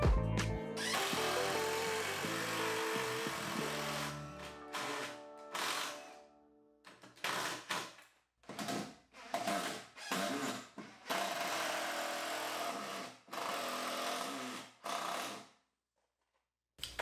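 A power drill drives screws into supports on a wooden workbench in a garage, sounding as a series of loud, close whirring bursts separated by short pauses, with a long continuous run at the start and quick stop-start pulses later.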